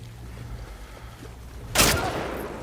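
A single loud shotgun blast in The Last of Us Part II cracks out sharply against a low, steady background hum, its roar trailing off over the following second.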